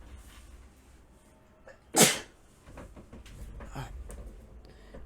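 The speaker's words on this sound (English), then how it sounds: "Excuse me, I'm gonna sneeze." A single sharp sneeze bursts out mid-way, loud and close, during a tabletop card game session, with quiet room noise before and after.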